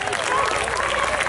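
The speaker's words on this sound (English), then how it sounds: "We got applause, everybody." Brief burst of crowd applause at an outdoor summer concert series in Nesconset, a dense patter of many hands lasting about a second.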